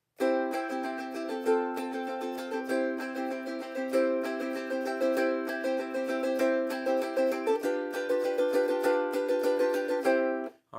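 A ukulele strums chords in a steady, quick down-up rhythm, struck where the neck meets the body, bright and close, with the chord changing a few times; no voices.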